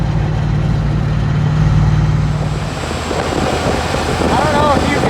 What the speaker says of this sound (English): I don't know if you can hear because of the wind